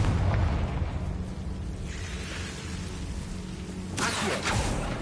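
Confringo explosive spell cast in the Hogwarts Legacy game, a loud fiery burst and rumbling boom that fades, followed by a second sharp blast near the end.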